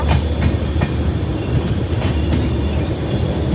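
A passenger train rolls along the rails between Mysuru and Shirdi near Ballari, a steady loud rumble with rhythmic clickety-clack wheel beats and faint squeals, no voices.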